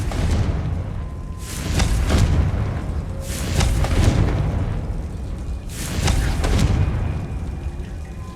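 Confringo blasting curse from Hogwarts Legacy on PS5, heard as three deep booming blasts spaced a couple of seconds apart, each with a rumbling low tail over a steady ambient bed.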